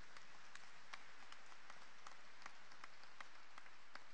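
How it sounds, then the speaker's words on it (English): Graduation-ceremony audience applauding faculty members as they are introduced, a faint, distant, steady patter of many hands with a few sharper claps standing out. "You can applaud."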